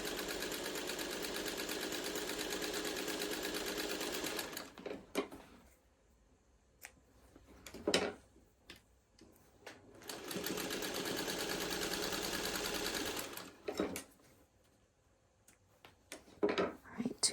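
A sewing machine stitches quilt seams in steady whirring runs of about four seconds each, pausing between seams while fabric is handled, with faint clicks and a brief voice in the gaps.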